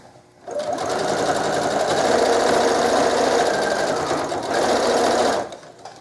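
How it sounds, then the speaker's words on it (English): Sewing machine stitching the length of a scarf, a loud, steady mechanical whir that starts after a short pause, runs continuously for about five seconds with a slight surge near the end, then stops. "you're going to start sewing all the way down the length of it"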